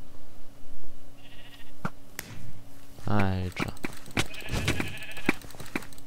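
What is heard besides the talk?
sheep bleating in Minecraft video game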